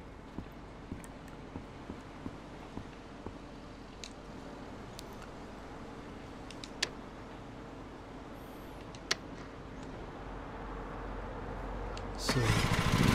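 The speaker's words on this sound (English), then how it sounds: "So, this engine started." A lawn mower engine turns over in Lawn Mowing Simulator, a low steady idle hum dotted with small clicks, building into a louder roar near the end; no one talks.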